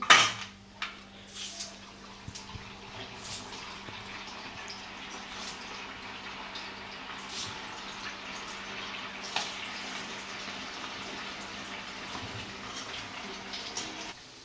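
Sabudana vadas deep-frying in hot oil give a steady close sizzle with small crackles and pops throughout. One sharp clatter comes near the start. No one speaks.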